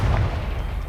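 A Confringo blasting spell explosion in Hogwarts Legacy, a single loud, deep rumbling boom that fills the whole brief moment.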